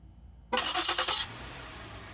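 Ford 3.5 liter V6 in a 2007 Ford Edge SEL Plus started by remote start: a short cranking burst that catches, then settles into a low, quiet idle.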